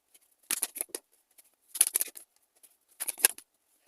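Tarot cards shuffled and drawn by hand, heard as three short bursts of crisp riffling and slapping, fairly close and quiet with pauses between.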